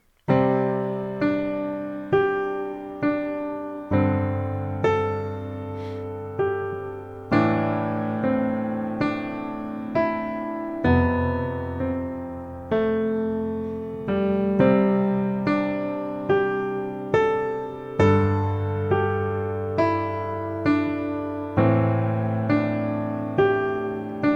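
Solo piano improvising on the white keys, a gentle, wandering melody over sustained chords, notes ringing and decaying, played alone at close range.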